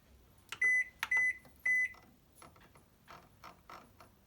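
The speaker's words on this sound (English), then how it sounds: "I'm going to cover it and put it in the microwave for 3 minutes" Three sharp beeps from a microwave keypad and door, then soft mechanical clicks and whirring as the oven starts up.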